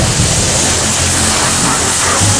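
A car wash wand sprays a steady jet of cold rinse water, a loud, continuous hiss and rush without a break.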